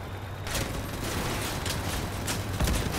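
Heavy weapon fire in the vehicle combat game Crossout, a loud sustained volley of repeated sharp blasts over a rumbling mechanical background, with distinct louder shots near the end.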